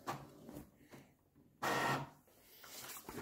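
An Epson EcoTank L6160 inkjet printer feeds and prints a color page, giving a burst of mechanical whirring with a loud, dense stretch in the middle, fairly close and with no talk.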